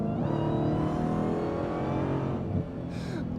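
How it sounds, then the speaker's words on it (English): Dodge Demon 170 with its supercharged V8 revving hard, a loud, steady engine roar with supercharger whine, heard close up from inside the cabin, briefly dipping near the end. "Listen to the V8"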